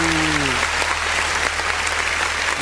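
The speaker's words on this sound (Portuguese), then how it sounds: "as palmas engrandecem o nome de Jesus." A church congregation during an online worship service claps loudly and steadily, a dense close burst of applause, with a voice briefly audible at the start and end.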